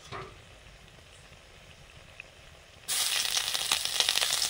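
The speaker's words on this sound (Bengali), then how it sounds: "কারি পাতাগুলো ভাজা হয়ে গেছে।" Curry leaves frying in hot oil, a quiet background that abruptly bursts into loud, crackling sizzling for the last couple of seconds.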